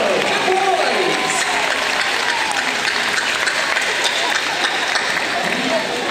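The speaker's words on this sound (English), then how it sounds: "how about a huge round of applause for our audience volunteers" A large stadium audience at SeaWorld Orlando's Orca Encounter show applauds and cheers loudly, a dense, continuous roar of clapping filling the whole stretch.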